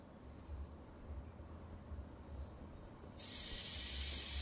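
Butter on a stuffed okra paratha cooking in a pan gives a faint steady hiss, then bursts into a loud, bright sizzle that continues to the end.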